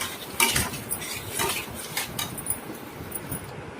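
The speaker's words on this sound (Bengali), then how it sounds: "এবারে আমি এর মধ্যে অ্যাড করে দেব ঘিটাকে অ্যাড করে দিলাম। দিয়ে আবারও একটু আমি কষিয়ে নিচ্ছি।" Ghee and gravy stirred in a pan for doi katla (fish curry), with a utensil clinking and scraping against the metal in irregular bursts over a steady low sizzle, close and moderately loud.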